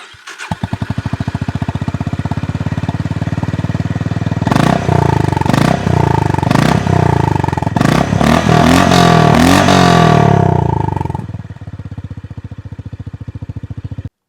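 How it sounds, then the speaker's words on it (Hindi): A Honda CB350RS motorcycle's exhaust idles with a steady, loud, close thump, then revs through several sharp bursts before settling back to idle and cutting off. "अब सुनते हैं CB350 RS का एग्जॉस्ट।"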